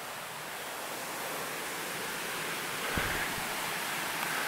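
Upper Moccasin Creek Falls roars from its top as a steady, loud broadband rush of falling water, unbroken throughout, with a faint thump near the middle.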